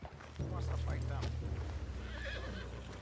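A horse in Red Dead Redemption 2 whinnies loudly and shakily, with faint hoofbeats, over a steady low rumble.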